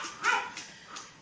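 Pet dogs running around indoors give a few quick, fairly close barks and yips in a row, with a brief whimpering tone.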